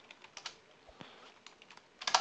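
Light, sparse clicking of a computer keyboard during an online Roblox chat session, a few scattered keystrokes ending in a quick burst of taps, close and fairly quiet with no voices.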